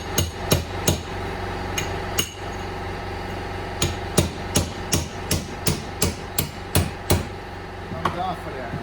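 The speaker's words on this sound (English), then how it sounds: "And then hit it with your chisel." A hammer strikes a chisel again and again, cracking a rear differential bearing race on a 2004 Ford F150. The blows are sharp, metallic and close, landing in an irregular but steady rhythm with short pauses.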